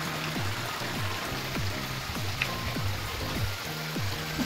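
Broadband rushing water at the Sarisua waterfall, a steady dense wash with no pauses, while a repeating low chirping or clicking pattern recurs roughly every half second underneath.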